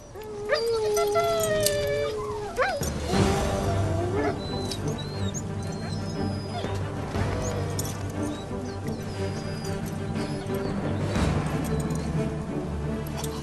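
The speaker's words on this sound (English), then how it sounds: "Huskies are originally from Siberia, where they've been used as sleigh dogs for centuries." Siberian huskies waiting restlessly before a sleigh run in snowy mountains, a howl rising and wavering over the first seconds, then a steady din of many dogs yipping and whining close by, with a voice faintly mixed in.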